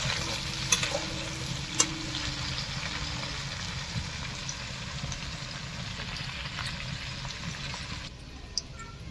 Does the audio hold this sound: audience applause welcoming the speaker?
no